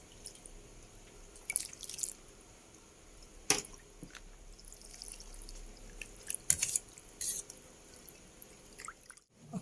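Noodles being transferred into cold water, soft scattered drips and splashes with a few sharp clinks, faint and close, mostly quiet between sounds.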